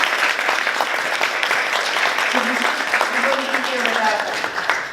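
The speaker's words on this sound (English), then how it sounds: "could we give a little bit of applause to them?" Warm applause from a sizable audience at a luncheon fills the room, dense and steady throughout, with faint voices under it before fading slightly at the end.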